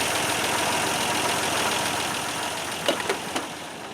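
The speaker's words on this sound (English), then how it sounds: "Pretty good sounding old motor." An old GMC V12 engine idles with a steady, rough rumble that holds constant, then a few short knocks or clanks stand out near the end.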